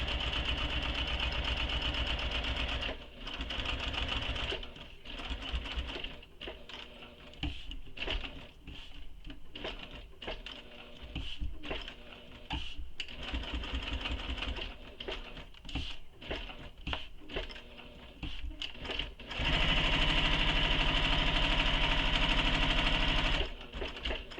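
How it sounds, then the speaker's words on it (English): A sewing machine stitches a bowler bag in long, steady whirring runs broken by brief stops, then a louder, faster final stretch, close up and with no speech. "So you just start stitching and you don't back stitch."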